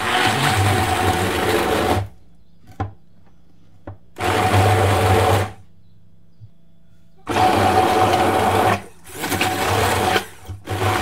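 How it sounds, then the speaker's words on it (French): Immersion blender mixing Greek yogurt and sugar, running in three loud bursts of about two seconds each, with short quiet pauses and faint knocks between them. "d'un bras mixeur,"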